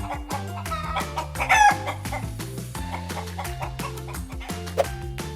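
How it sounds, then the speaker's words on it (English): Hens cluck and a rooster crows loudly over a steady backing of music, the clucks scattered while the crow rises midway. "Chicken."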